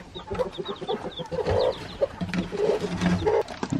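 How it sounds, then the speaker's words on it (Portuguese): A hen clucks close by in a farmyard, with a run of short, irregular clucks and soft chirps from small chicks mixed in, and no voices. "Olha a galinha aqui, é brava, pai?"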